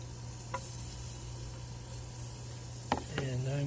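Potatoes and onions sizzle in a pan with a steady, faint hiss, broken by a few sharp clinks and scrapes near the end.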